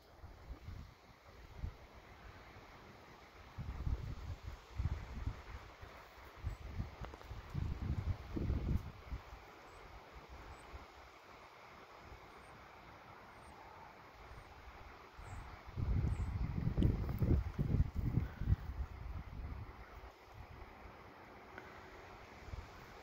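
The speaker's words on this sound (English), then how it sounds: "Real breezy. When it really gets blowing, sounds like the falls." Gusty wind sweeps past a backyard deck on a breezy day, a broad rushing roar like a distant waterfall that swells in surges and then eases, steady and low, with no talk.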